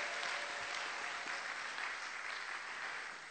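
A church congregation applauds during a service, a dense, even wash of clapping that holds steady throughout and tapers slightly at the end.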